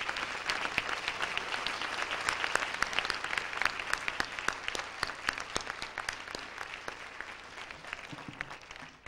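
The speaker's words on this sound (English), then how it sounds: "I would like a round of applause to be given to our master of ceremonies" Sustained applause from an audience at a stage show fills the whole stretch, dense clapping at a steady level that tapers slightly near the end.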